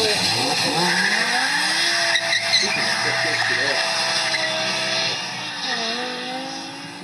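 A car revs and accelerates hard with tires squealing and skidding through a test drive, the engine loud and continuous throughout while voices talk over it.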